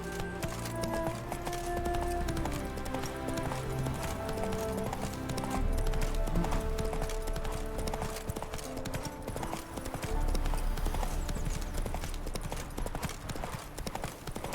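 Roach the horse gallops in The Witcher 3, hooves pounding in a steady rapid rhythm under a swelling orchestral game score, loud and continuous throughout.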